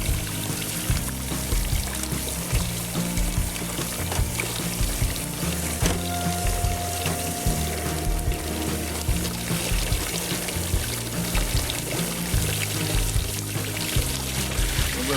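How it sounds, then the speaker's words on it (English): Water pours continuously over the riffles of a highbanker being rinsed during gold mining in Washington State, a steady splashing, trickling stream heard close up without speech. "And let me rinse those off so I get right back down into the"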